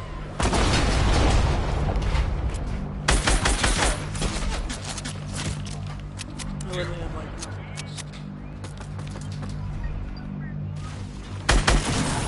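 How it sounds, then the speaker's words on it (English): Shotgun blasts in the Fortnite video game, several loud booming shots in quick bursts near the start and again at the end, with players talking over the gameplay. "How did you shotgun me?"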